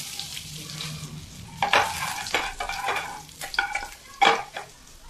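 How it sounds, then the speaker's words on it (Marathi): Garlic drops into hot oil in a pan while cooking dry Manchurian, starting as a quiet simmer before bursts of loud sizzling and scraping stirring break out in uneven waves. "तेल गरम झाले की त्यामध्ये लसूण टाकूया"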